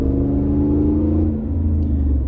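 Chevrolet Silverado with a 5.3 V8 and a Black Widow exhaust revs under throttle, a loud, steady deep rumble with rising engine drone heard from inside the cab, no talking.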